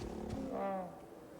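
Wolf in the Icarus survival video game: a single short, faint tonal growl-like howl that bends downward, heard alone over a quiet background.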